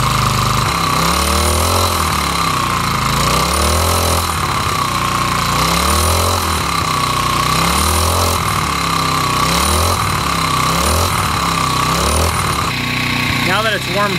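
A Craftsman 34cc 4-stroke string trimmer engine idles and warms up, a steady loud putter with slight rhythmic surging and hesitation that runs continuously throughout.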